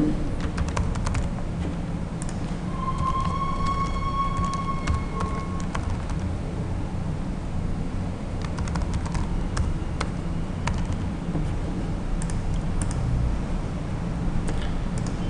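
Steady computer-keyboard typing while writing a JavaFX class, close and continuous with irregular key clatter, and a faint tone drifting in the background.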